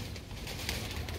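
A pigeon cooing softly, a brief low murmuring call heard close but quiet against background noise.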